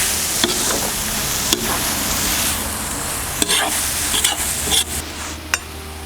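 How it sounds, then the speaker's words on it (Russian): Bigos with chicken and cabbage being stirred in a kazan over sizzling heat, with a steady frying hiss and a spoon scraping the pot at irregular intervals, close up. "Все перемешаем."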